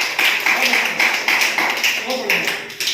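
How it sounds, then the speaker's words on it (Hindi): Children clap in a classroom, with quick bursts of hand claps running steadily through the whole stretch. "वाह भाई वाह, ताली बजाओ फटाफट।"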